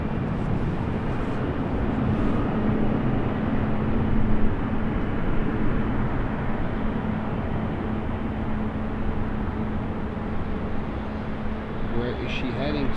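A KLM Boeing 777 in SkyTeam livery at foggy Schiphol Airport gives off a continuous, loud jet engine roar with a steady droning hum that holds throughout.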